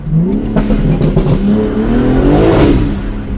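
A car engine revs up and falls back on a street in Brussels, a loud close throaty growl with crackling exhaust pops layered over the rising and falling pitch.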